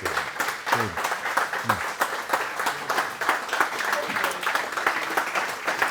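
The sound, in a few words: audience applause and clapping after a song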